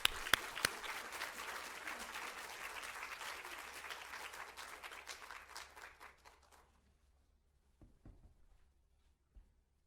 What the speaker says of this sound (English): let us give a big applause to Father Jerry.